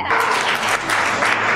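A short burst of clapping from a family audience at a dance performance event, loud and dense, filling about a second and a half.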